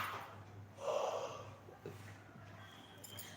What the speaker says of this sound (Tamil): கொட்டாவி நம்பர் 1.